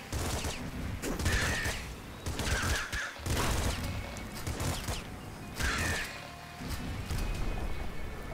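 Bursts of rapid weapon fire from the splinter gun in the top-down shooter Nuclear Throne, loud clustered volleys repeating every second or two with crunchy impacts and game effects between them, no talking.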